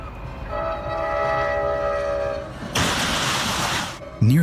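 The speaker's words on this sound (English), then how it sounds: "an Amtrak train collided with a car hauler semi-truck, stuck on the track sending vehicles flying into the air" An Amtrak train sounds a long, loud multi-tone horn, then a burst of harsh broadband crash noise as it strikes a car hauler semi-truck stuck on the tracks.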